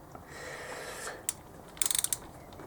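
A torque wrench ratchets as it tightens pit bike cylinder bolts, a few isolated clicks followed by a quick burst of sharp ratcheting, close and fairly quiet.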